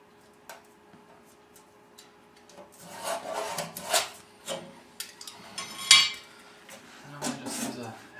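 A hacksaw cuts with several irregular rasping strokes, in short bursts that grow busier toward the end, against a quiet background, with faint metallic clinks mixed in.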